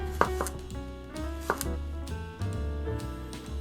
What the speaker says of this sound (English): Next, we're gonna do some thinly sliced cucumber, English cucumber.